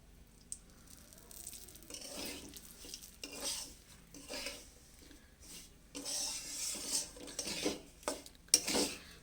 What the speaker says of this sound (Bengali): এবার তেল দিয়ে সুজিটাকে ভালো করে ভেজে নেব।